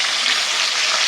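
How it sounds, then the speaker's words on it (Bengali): Rohu fish pieces fry in hot oil in a pan, giving a loud, steady close sizzle without a break for the whole short moment. "মাছগুলোকে এরকম উল্টো পাল্টে দুটো খুব ভালো করে ভেজে নিতে হবে।"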